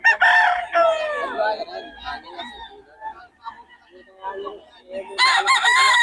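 A Golden Boy cross gamecock rooster crows loudly and close by, a long strained call followed by quieter clucks and throaty sounds before another burst of crowing, with people talking in the background.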